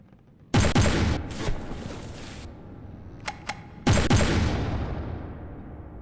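A heavy gun in the naval game From the Depths fires two loud booming blasts a few seconds apart, each with a long rumbling decay, and two short sharp clicks in between.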